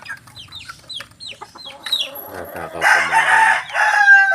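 Sweater Gilmore cockerels cluck in short rising calls, then a loud close crow swells over the last seconds, with a brief voice speaking among them.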